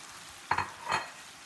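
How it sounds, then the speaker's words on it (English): Broccoli is tossed into a hot pan with sausage and garlic, giving two short, soft bursts of sizzling and stirring over a faint steady background hiss. "now I'm going to throw the broccoli in"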